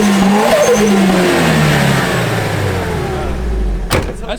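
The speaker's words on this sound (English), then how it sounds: "So DJ's ball valve is stuck shut, but it sounds pretty sick" Nissan Silvia with an SR engine and a ball valve stuck shut, revving loudly nearby, pitch sweeping up and down before settling, ending with a brief sharp crackle.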